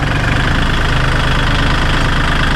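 A farm tractor engine idling loud and close in a field, a steady, rough, low chugging rumble with no change in pace.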